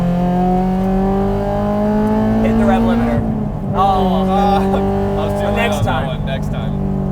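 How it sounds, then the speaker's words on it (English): A naturally aspirated Honda S2000 AP2 track car revs hard on a circuit, its engine rising to the 8,400 RPM rev limiter. The loud, close engine drone climbs in pitch, then stutters and chatters against the limiter, with faint voices in the cabin. "Hit the rev limiter."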